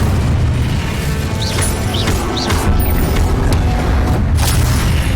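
A fire spell blast from Hogwarts Legacy on PS5 booms loudly over dense, continuous game action, with crashing and bursting layers filling the whole stretch and a few brief whistling tones near the middle.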